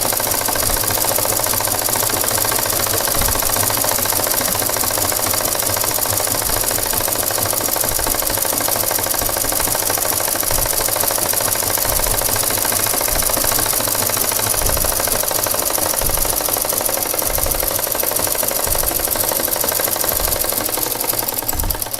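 Sewing machine joining petticoat panels, one straight piece to one slanted piece, running steadily and loudly for the whole stretch with a continuous mechanical whir and rapid needle chatter, no talking.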